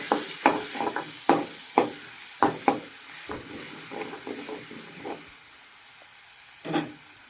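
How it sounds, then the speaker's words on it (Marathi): Garlic paste dropped into hot oil, brief sizzling bursts with a series of sharp spoon knocks and scrapes that fade to quiet near the end. "आता हे तेलामध्ये हे लसूण पेस्ट सोडा."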